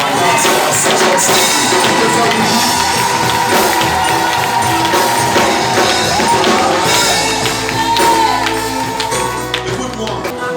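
A church congregation at the final day of a fourteen-day fast and prayer gathering cheers, claps and shouts in acclaim of the Lord, a loud sustained crowd roar with mixed voices throughout.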